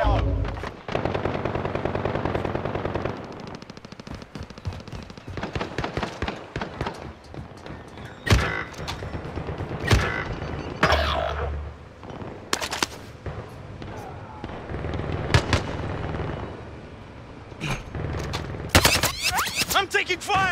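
Rapid automatic gunfire and single shots ring out in Call of Duty: Modern Warfare combat, bursts of rattling fire with sharp cracks scattered across twenty seconds, loud and close, with voices shouting over it.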